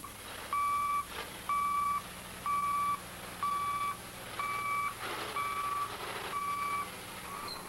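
Truck backing up with a steady reversing alarm: seven evenly spaced loud beeps, each about half a second long, over low engine hum and outdoor background noise.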